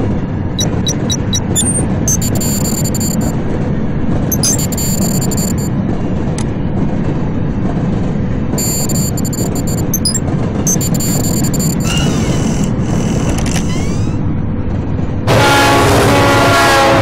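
A video game train rumbles loudly along the tracks, a heavy constant roar with repeated high metallic squeals and screeches, ending in a bright grinding burst.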